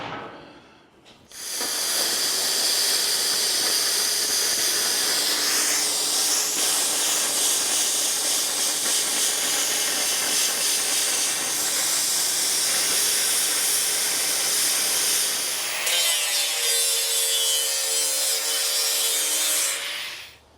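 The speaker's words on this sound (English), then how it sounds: "So I just ripped it down with the plasma cutter." Plasma cutter ripping a length of 2x2 angle iron, a loud, steady hissing roar that runs unbroken for most of the stretch with a tonal whine near the end, bracketed by brief quiet.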